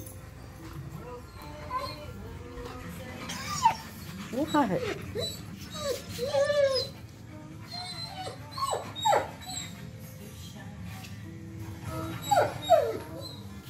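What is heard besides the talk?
husky dog howling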